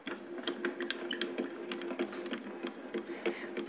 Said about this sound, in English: So we'll run these through our machine and get them cut.